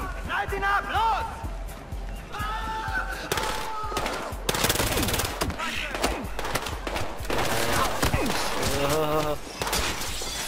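Gunfire in the Battlefield Hardline campaign during a police chase, with bursts of automatic fire and shots running through the whole stretch, mixed with game effects and loud, excited voices talking over it.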